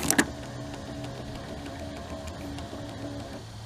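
A small electric motor whirs steadily as the power antenna mast retracts on a 1993 Mazda Miata, a quiet continuous grinding hum following a brief click at the start.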